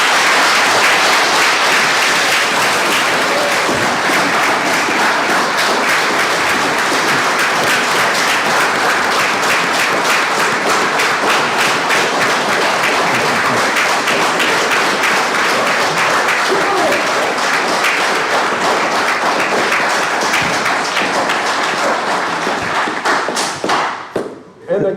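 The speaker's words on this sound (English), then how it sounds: "And the crowd went wild." An audience at a city commission meeting bursts into sustained loud applause right after a unanimous vote, dense clapping with a few thumps and cheers running steadily before cutting off abruptly at the end.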